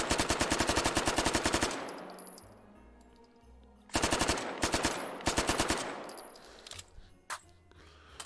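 Submachine gun fire in the VR shooter Hot Dogs, Horseshoes & Hand Grenades: two long rapid automatic bursts at a steady, moderate rate, each followed by ringing decay, then shorter bursts and a few single shots.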